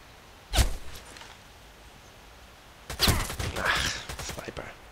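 Two silenced sniper rifle shots in the online shooter Contract Wars, each a sharp, fairly loud crack, spaced a couple of seconds apart. The second shot is followed by a short burst of noisy clatter.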